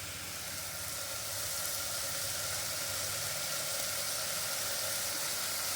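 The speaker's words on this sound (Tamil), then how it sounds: "ஒரே ஒரு கேரட்டு சின்ன சின்ன பீஸாக கட் பண்ணி வச்சுருக்கேன், நான் போடுறேன்." Small diced carrot pieces sauté in hot oil, producing a constant, even hiss of sizzling with no pauses from start to finish.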